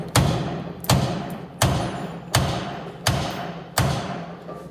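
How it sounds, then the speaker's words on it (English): Hammer taps on the upper ball joint of a 1962 Jaguar E-Type 3.8, six loud close metallic thuds at an even, roughly once-per-second pace, each ringing off briefly. "Let me see if a light tap will take it off."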